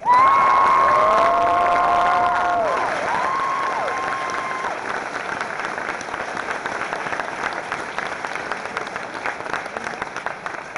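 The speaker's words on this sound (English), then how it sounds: "let's give them a well-deserved round of applause" A high school commencement crowd applauds the custodial staff, a loud burst with a few cheers that slowly thins into scattered, lighter clapping over about ten seconds.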